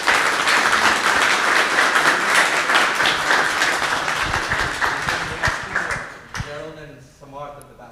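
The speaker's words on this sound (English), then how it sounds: "So just want to give her another round of applause." An audience at a cybersecurity forum in Mississauga gives a sustained round of dense clapping that tapers off over several seconds, then a voice begins speaking as the applause fades.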